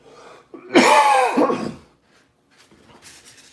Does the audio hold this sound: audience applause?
no